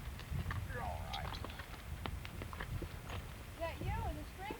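Horse hooves clop along during a cattle drive, an irregular rhythm of dull thuds over rumbling low noise, with people talking and calling out over them.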